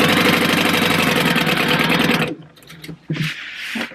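Sewing machine with a size 12 needle stitching through vinyl, a loud close rapid mechanical hum and needle rattle for about two seconds, then stopping into quieter handling sounds and a few clunks.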